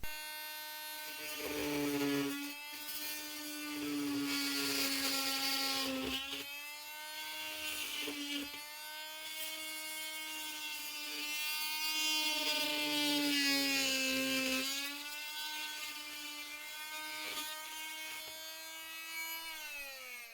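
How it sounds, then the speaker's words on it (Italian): An Enventor 20V 300W brushless oscillating multitool cuts a piece of wood with a steady, high-pitched buzzing whine. The pitch dips and rises in long passes and briefly drops out between them, with no talking. "Proviamo quindi a eseguire un piccolo taglio su questo pezzo di legno."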